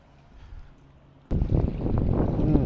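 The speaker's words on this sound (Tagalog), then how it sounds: "At maririnig nyo yung lagaslas ng tubig." Outdoors in Canada, a stream's water babbles after a quiet start, breaking in suddenly as a loud, full rushing that continues steadily, with some wind mixed in.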